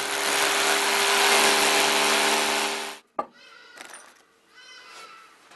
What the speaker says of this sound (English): Using an 8mm masonry drill bit, we are now ready to drill the holes.